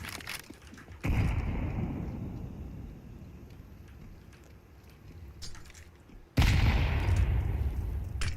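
In a video game, two loud grenade blasts land several seconds apart, each a sudden boom that rolls into a long, rumbling tail, with faint gunfire cracks in between.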